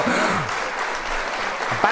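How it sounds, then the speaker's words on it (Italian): Audience applause during a live broadcast, a steady wash of clapping with a voice speaking over it. "veramente un applauso alla pelle di Enzuccio."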